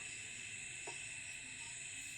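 Palm-fruit pitha fries in oil in a kadai, giving off a soft, continuous sizzling hiss that stays faint and steady throughout.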